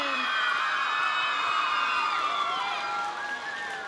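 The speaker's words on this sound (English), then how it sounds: "let's give her one more big round of applause and congratulations" Children at an Alaska elementary school cheer, whoop and shout for their assistant principal; a loud, dense wash of high-pitched voices is sustained throughout, fading slightly at the end.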